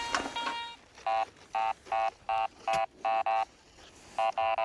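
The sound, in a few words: metal detector signal beeping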